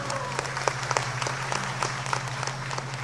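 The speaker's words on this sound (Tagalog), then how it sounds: "Mas malakas na palakpak po." Audience applause at a KALAHI-CIDSS project launch, a steady dense clapping from a crowd with sharp individual claps over a constant low hum, lasting the whole time.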